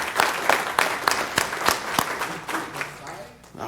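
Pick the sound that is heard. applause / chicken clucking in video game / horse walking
applause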